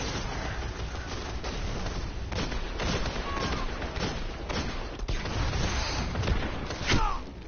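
Rapid hand cannon shots ring out in a Destiny firefight with a Titan fire team, several sharp cracks spread across the stretch over a dense, steady bed of battle noise.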